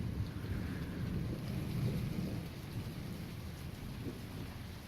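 Thunder rumbles low and steady beneath rain during a small summer thunderstorm in Red Deer, Alberta, a continuous deep roll swelling slightly around the middle before easing, with no voices.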